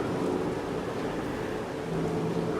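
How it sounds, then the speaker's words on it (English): Steady rain in Farming Simulator 25 during a rainy October on the farm, a dense, even hiss with a low rumble underneath that holds unchanged throughout, with no voices. "even though it's raining, a rainy October"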